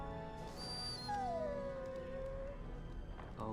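A dog whimpers in the fantasy role-playing game Dragon Age Origins, giving a single high, drawn-out whine that slides downward over faint ambient game sound.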